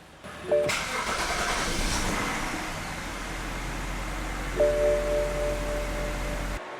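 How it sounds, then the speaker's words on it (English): A BMW 535i E60 engine cranks and catches after fuel-rail work, settling into a steady loud idle with a broadband roar, a faint whine and a second swell near the end. "So now let's go start the car."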